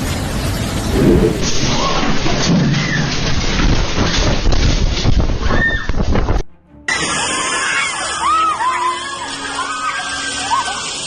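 Severe thunderstorm in China with wind up to 190 mph and hail: a loud, dense roar of wind and pelting impacts for several seconds, with shouting or screaming mixed in, then an abrupt cut to a different outdoor scene.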